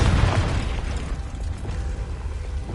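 Spell effects from Hogwarts Legacy on PS5, the Depulso and Confringo spells, make a dense, continuous roar of blasts and mechanical rumble that stays loud and steady throughout with no voices.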